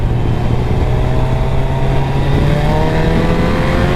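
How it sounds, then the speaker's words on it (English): A Suzuki Hayabusa motorcycle pulls hard after a small throttle twist on an open road, its engine tone climbing steadily under loud, constant wind rush close to the rider. "just a tiny twist of the throttle and the Busa really does just pick up"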